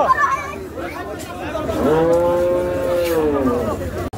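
A cow lows at Hozrotpur cattle market during Qurbani sales, one drawn-out, fairly near moo rising and falling amid crowd chatter and nearby voices.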